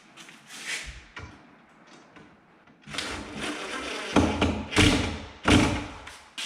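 A screw being driven into a pre-drilled hole in a cabinet drawer bracket during cabinet assembly: a series of close thumps, taps and scraping knocks, louder toward the end, with no talk.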